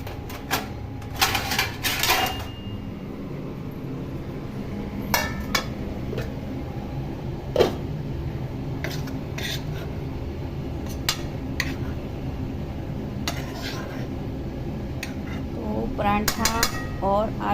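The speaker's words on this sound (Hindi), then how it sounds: "प्लेट निकाल लेते हैं" Plates and dishes being taken out in a home kitchen, with scattered clinks and clatters of crockery, a few sharp knocks spread across the stretch over a steady low background hum.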